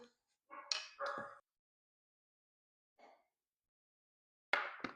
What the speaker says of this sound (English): And my dogs are barking, and I'm sorry.